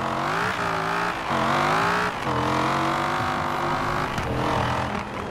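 Sports car engine in Forza Horizon 4, likened to a Dodge Viper, revs loudly and continuously, climbing through repeated rising surges with brief dips between gear changes, close and dominant with no voices over it.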